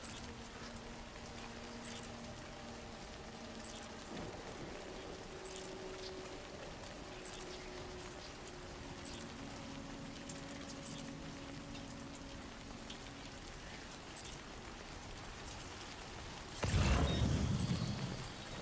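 Steady video-game rain patters continuously in Death Stranding 2: On the Beach, with faint low tones underneath, then a loud rustling burst briefly swells near the end.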